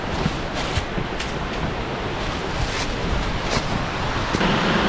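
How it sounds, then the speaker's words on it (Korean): A steady, broadband rushing roar of an unseen waterfall on Seoraksan mountain fills the clip, loud and constant with slight swells. "폭포 소리가 엄청 우렁차게 들리네요"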